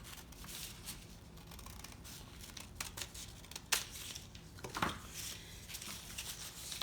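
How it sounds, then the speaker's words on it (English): Scissors cut through construction paper along a seam: soft crinkling and snipping with a few sharper crisp snips, close and fairly quiet, with no voices. "you just open up the section and cut right down the seam"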